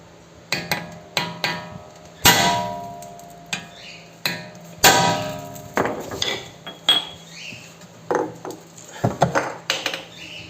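Hammer striking a socket wrench to loosen a stubborn nut while changing CV boot and tie rod ends on a SEAT Ibiza 6L: a series of sharp metallic clanks in irregular bursts, some ringing, with no talking.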